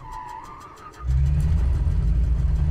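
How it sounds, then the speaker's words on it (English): Simulated engine start of a Morane Saulnier MS733 Alcyon aircraft in Microsoft Flight Simulator: a quiet whine, then about a second in the piston engine catches and settles into a loud, steady, rumbling run. "And engine start."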